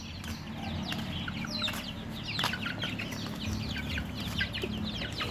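Young and half-grown chickens on a small poultry farm cluck and chirp continuously, many overlapping calls near and far over a steady farmyard hum, with no talking.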